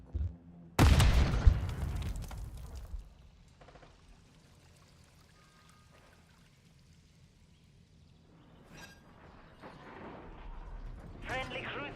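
Cruise missile strike in a video game: a sudden loud boom with rumbling debris tail fading over a couple of seconds, then quieter game ambience and faint crackles building toward the end.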